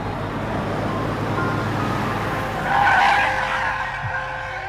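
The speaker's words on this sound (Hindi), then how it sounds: "तभी सामने से ट्रक आता है और जोर से आवाज़ आती है ब्रेक लगने की" A truck brakes hard with tyres skidding and squealing on a road in an anime scene, a sustained harsh screech swelling to a peak midway over steady rumbling roadway noise, loud and close.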